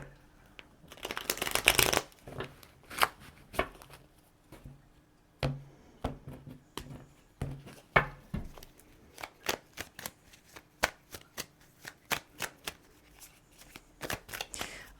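An Everyday Witch Tarot deck is shuffled by hand: a dense riffling burst at first, then a long run of crisp, separate card snaps and slaps in an uneven rhythm, close and fairly quiet, with no speech.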